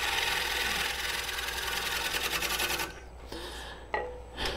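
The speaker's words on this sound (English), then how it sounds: "It's kind of a scraping pull cut" A wood lathe spins a green wood bowl while a tool makes a scraping pull cut along the exterior curve, a rapid rhythmic rasping that stops partway through and leaves a few scattered scrapes and knocks.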